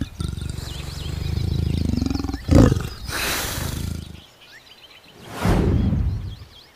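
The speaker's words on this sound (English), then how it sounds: "Leopard." A leopard roars in the wild, a low rumbling growl that builds and is followed by two harsh, breathy bursts, with faint bird calls in the background.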